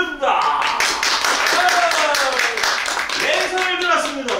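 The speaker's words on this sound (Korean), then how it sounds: "오른손을 들면 박수, 왼손을 들면 함성" An audience at a mono music-drama performance claps in a dense, loud burst with shouts and cheering mixed in.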